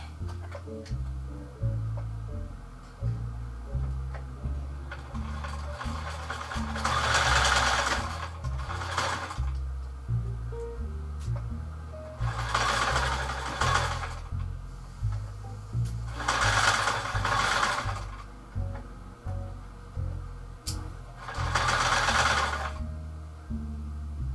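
A sewing machine stitches a 1930s dress in repeated bursts of rapid mechanical whirring, each lasting a couple of seconds, with steady ticking and quiet handling between the runs. The sound is close and clear, with no talk.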